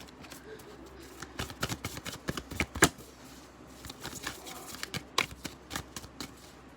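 A deck of playing cards is shuffled by hand, a burst of riffling clicks and flutters that pauses and then riffles again, close and fairly soft with no talk.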